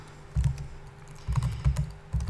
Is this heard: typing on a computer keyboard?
yes